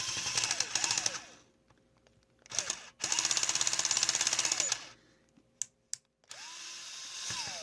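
Power drill on its hammer setting, used during a teardown of a 1996 Nintendo 64 console, rattling in loud bursts separated by short pauses and a few quick taps, close by with no talking.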